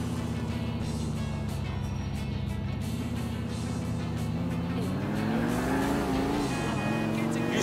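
In the video game Grand Theft Auto IV, a car engine hums steadily as it drives, with rising and falling pitch as it speeds up, continuous and fairly close.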